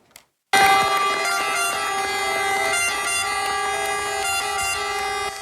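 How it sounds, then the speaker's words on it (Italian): A fire brigade horn blares loud and sustained at a funeral procession leaving Caltanissetta cathedral, a single continuous harmonic blast that starts abruptly after a brief quiet moment and holds steady. "Le sirene dei Vigili del Fuoco hanno accompagnato l'uscita del feretro dalla cattedrale di Caltanissetta."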